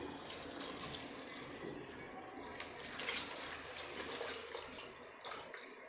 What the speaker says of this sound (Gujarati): હવે આમાં આપણે પાણી એડ કરીશું.